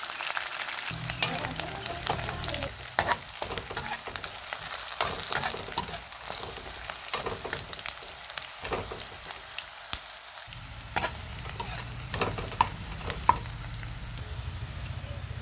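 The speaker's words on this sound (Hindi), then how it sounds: "प्याज को अच्छी तरह फ्राई करना है और उसके बाद इसमें मीट मज़ा ऐड करना है।" Onions and meat fry in a pan for a Kashmiri wazwan dish, giving a long, even hiss of crackling oil heard close, with scattered clicks and stirring scrapes and no voices over it.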